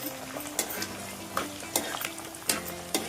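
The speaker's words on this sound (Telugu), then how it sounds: "ఒక స్పూన్ వరకు ఏమో జీలకర్ర వేసుకుని బాగా ఫ్రై అయ్యేటట్టు ఫ్రై చేసుకుందామండి" Cumin seeds frying in a pan of hot oil for gonguura pulihora, a steady close sizzle broken by several sharp stirring scrapes of a spoon against the pan, with no talking.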